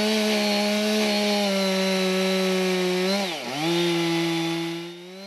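A chainsaw carving an oak log runs loud and close at steady high revs, briefly dipping in pitch near the middle as it bites, then rising again before easing off at the end.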